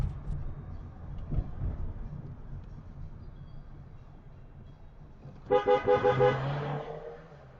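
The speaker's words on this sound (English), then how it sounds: "The horn use was brilliant" A car horn gives four quick toots in a row on a road, sounding fairly near over a steady low rumble of traffic and engine noise.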